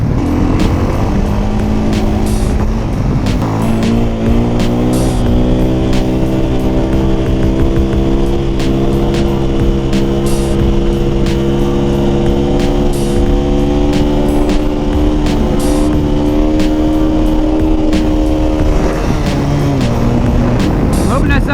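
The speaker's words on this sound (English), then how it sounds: "that was like the gnarliest wheelie I've done on this bike" A 2020 KTM 500 supermoto motorcycle engine revs hard during a wheelie, rising and holding a loud buzzing drone with wind noise, close and continuous throughout.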